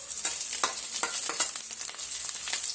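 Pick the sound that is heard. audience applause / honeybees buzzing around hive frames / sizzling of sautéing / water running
sizzling of sautéing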